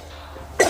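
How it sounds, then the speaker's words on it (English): A single sharp cough bursts out near the end after a brief quiet pause. "Give me a second, because I have another cough coming up"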